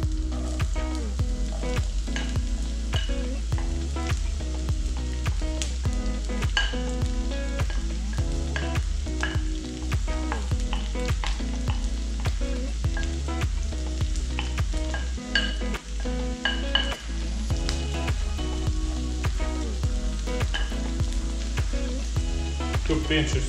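Onions sizzle and fry steadily in a pan for cuttlefish, a dense continuous crackle with occasional clinks of stirring, close and fairly loud throughout.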